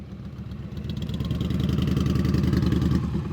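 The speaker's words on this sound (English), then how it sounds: "You hear our engine go back up as she was coming to a stop?" A motorcycle engine on a slow-speed riding practice course, its revs climbing back up as the bike comes to a stop, with a rapid pulsing exhaust note that swells in loudness, heard from nearby.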